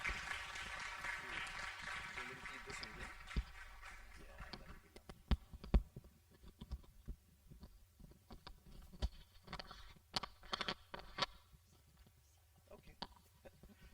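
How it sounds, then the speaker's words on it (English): Seminar audience applauding to welcome a speaker, a broad steady wash of clapping for about four seconds that fades into scattered claps and murmurs with talk following. "A big round of applause please ladies and gentlemen"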